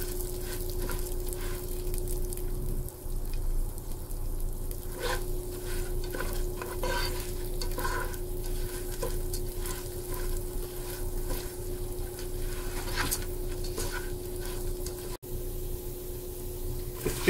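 Rice roasting in a pan for a pineapple rice dessert, stirred steadily with a spatula over a continuous sizzle, with scraping strokes recurring throughout at close range.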